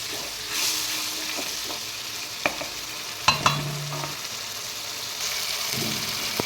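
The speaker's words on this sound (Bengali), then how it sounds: "জল দিলাম দিয়ে এবার মশলাটাকে আর একটু ভালো করে কষাতে থাকবো" Spice masala with added water being stirred and fried in a pan for mutton curry, a steady low sizzle with scattered spatula clinks and scrapes against the pot, moderately quiet and close.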